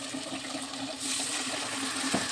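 Water is poured into a pan of hot frying tomato, turmeric, cumin and chilli masala, a close rushing hiss that swells and then fades into a bubbling sizzle.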